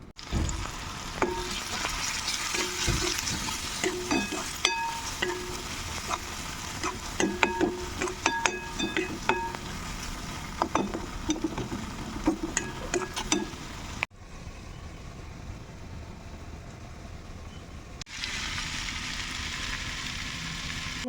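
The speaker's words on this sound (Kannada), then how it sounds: "ಇವಾಗ ನಾನು ಒಗ್ಗರಣೆ ಹಾಕೋತೀನಿ" Spices crackle and sizzle loudly in hot oil as tempering is added for drumstick sambar, a dense continuous frying hiss with sharp pops and clinks for about fourteen seconds, then a quieter steady background hiss.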